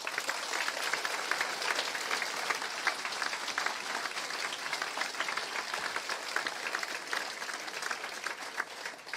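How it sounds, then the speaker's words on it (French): Audience applause at a university graduation ceremony in Québec, a sustained, even roar of many hands clapping from a fairly distant crowd, continuing without pause for about nine seconds with no voices on top. "On les applaudit, s'il vous plaît."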